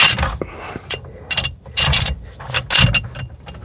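A steering wheel lock is fitted onto a car's steering wheel, giving close, loud metallic clunks, clicks and ratcheting scrapes in quick irregular bursts.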